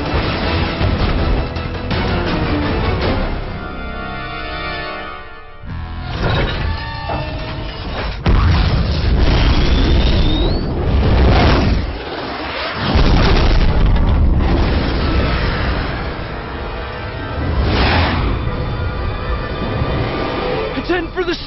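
Heavy booms and rumbling blasts from missiles being destroyed in the video game Resident Evil 6 on PS3, repeated loud impacts with roaring swells amid game noise and occasional voices.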